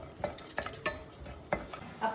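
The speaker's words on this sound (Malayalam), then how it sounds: "അണ്ടിപ്പരിപ്പും മുന്തിരി വറുത്തെടുക്കുക. നമ്മള് അണ്ടിപ്പരിപ്പും പിന്നെ കുറച്ച് ഗീ ഒഴിച്ചിട്ട്" Cashews and raisins fry in ghee for Onam semiya payasam, with a spoon scraping the pan in a few scattered strokes over a soft, quiet sizzle.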